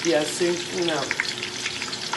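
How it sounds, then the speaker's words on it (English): Onions fry in a pot for jollof rice with thyme, curry and bay leaf in the mix, giving a steady close sizzle and crackle while a voice speaks briefly over the start. "As you can see, it's frying."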